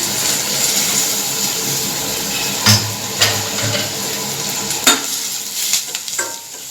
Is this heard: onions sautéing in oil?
yes